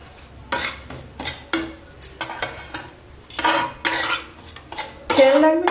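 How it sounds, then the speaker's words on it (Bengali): Spices being stirred into oil in a pan over a low flame, with repeated metal scrapes and clinks of a spoon against the pan coming in bursts, moderately close and with no talking. "তাই একদম লো ফ্লেমে এইভাবে তেলের সঙ্গে মশলাগুলোকে প্রথমে মিশিয়ে নেব।"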